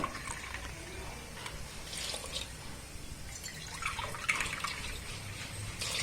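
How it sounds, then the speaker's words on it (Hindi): Hot water splashes and drips into a cooking pot in a steady, fairly close pour with small trickling spurts, no talking, while making vegetable masala rice. "तो अब इस कटोरी से हम 4 कटोरी गर्म पानी ऐड कर देंगे। ये गर्म पानी है।"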